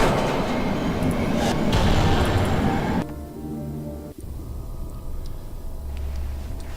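A subway train in the horror game Cry of Fear rumbles loudly past at close range, a dense roar that cuts off abruptly, followed by a lower steady mechanical hum and a rising drone, with no talking.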